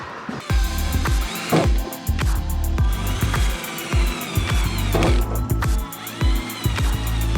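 Power drill with a thin bit boring a round hole while building a 75-litre underfloor water tank for a caravan, giving a steady whine with repeated sharp clicks and knocks throughout, close and loud.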